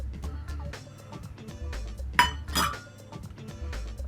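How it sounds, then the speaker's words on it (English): A fork clinks against a small dish while mixing a powder with boiling water, giving quick, light taps and a couple of brighter ringing knocks close up. "I'm gonna use a fork to mix it all"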